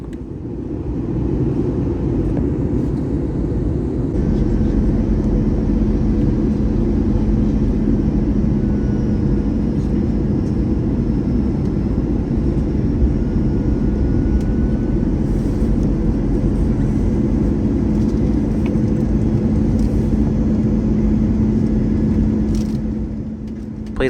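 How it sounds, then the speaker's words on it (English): Delta airliner engines spooling back as the jet starts its descent toward Montego Bay, Jamaica, heard from inside the cabin as a loud, steady low roar with a constant hum that eases slightly near the end. "we started to descend, and you could hear the engine start to spool back"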